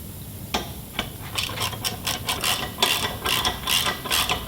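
Ratchet wrench with a 5/8 socket tightening BSF bolts under a Land Rover Discovery 2 while fitting a rear diff guard, giving a run of quick, fairly close clicking strokes in uneven bursts over a low background hum.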